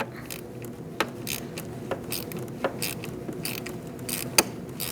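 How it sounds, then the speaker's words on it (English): A 10mm socket ratchet loosens the negative battery terminal nut on a 2008-2014 Mercedes-Benz C300 3.0L V6, producing close, quick rapid clicking with a few sharper clacks over about five seconds and no talking. "We're going to use a 10mm socket, and we're going to take off our negative battery terminal"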